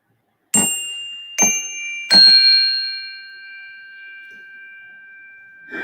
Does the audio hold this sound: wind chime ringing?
yes